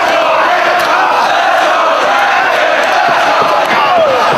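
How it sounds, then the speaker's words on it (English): An arena crowd at a professional wrestling match between KENTA and Bryan Danielson roars and cheers in a steady, dense wall of noise, loud and continuous with scattered shouts. "This crowd getting behind both of their athletes as Kenta starts to unleash the kicks."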